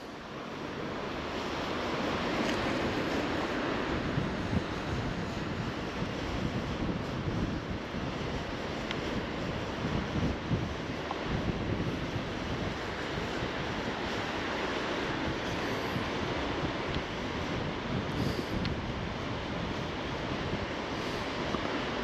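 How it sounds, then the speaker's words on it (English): Turbulent water churns in a canal with a constant broad roar and rush, loud and unbroken throughout, mixed with wind noise on the microphone. "look at the turbulent water in the canal."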